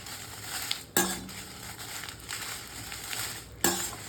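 Dried red chillies, about 100 grams of a hot variety, warmed briefly in a little oil in a pan, giving a steady soft sizzle with two sharp clinks of a spoon against the pan.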